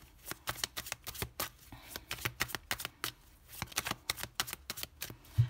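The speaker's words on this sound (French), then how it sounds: "Avec le tarot, on va poser les 6 cartes." Tarot cards shuffled and laid out, a fast run of crisp riffling flutters and slaps in quick irregular bursts, close up with no voices.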